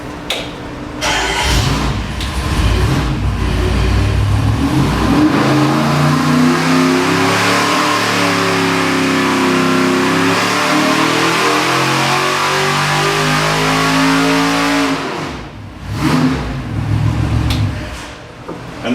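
A race engine on a dynamometer revs in a loud sweep from 4,500 to 6,500 RPM, its pitch climbing and wavering for about ten seconds before dropping back and fading to idle.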